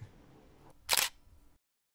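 A single camera shutter click fires as a selfie is taken, sharp and close, standing out alone against a quiet room before the sound cuts to silence.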